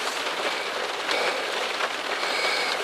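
Steady rain hissing down during a December trout fishing outing on a stream in southern Ohio, a dense, continuous wash of drops with no talk.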